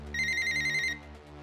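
A telephone rings with one electronic trill lasting under a second, loud and close, then stops, with no voices.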